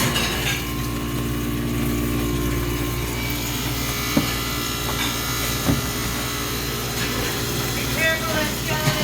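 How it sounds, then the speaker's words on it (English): An ice machine's water pump runs on a service call, with a remote condenser in the system: a steady, close electric motor hum with a few faint clicks and knocks, and no talking. "Our pump will start."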